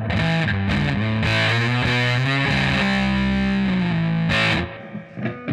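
Distorted electric guitar power chords played through a Warm Audio Foxy Tone Box fuzz pedal, a loud, thick sustained run of chord changes that rings out and fades near the end, with no voices.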